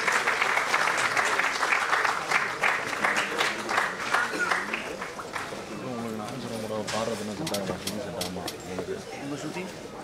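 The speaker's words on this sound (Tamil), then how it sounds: "ஒரு கைத்தட்டல் கொடுத்துடலாம்" An audience at a Tamil film audio launch event for Kaalangalil Aval Vasantham breaks into sustained, dense applause that gradually thins out, while a voice talks over the clapping.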